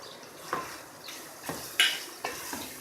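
Chicken cooking in masala in a pan over medium heat for bhindi chicken, stirred with soft, scraping strokes that come every second or so, close and fairly quiet, with no talking.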